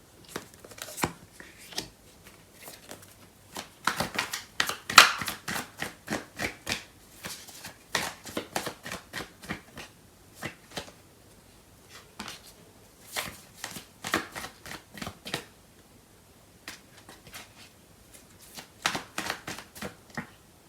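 Tarot cards are shuffled by hand in a steady series of quick, crisp riffling flutters and soft slaps. The sound is quiet and close, with brief pauses between bursts.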